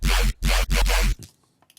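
Three heavy, gritty synth bass stabs made with the FM feature of the Serum synthesizer come in a quick, chopped rhythm, each loud and harsh. A few faint clicks and a short tail follow.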